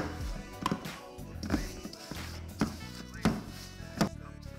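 Butter and sugar are creamed by hand for chocolate chip cookies, producing a repeating series of soft thuds and scrapes roughly every second against a bowl, with faint background noise.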